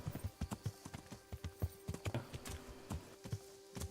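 Quick, rhythmic hoof clops of a trotting horse in the video game Kingdom Come: Deliverance, fairly faint, keeping an even pace throughout.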